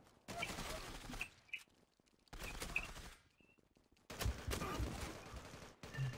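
Automatic weapon fire from the online shooter Zula, on its Persepolis map: three bursts of rapid close gunshots separated by short quiet gaps, loud and crisp, with faint voices in between.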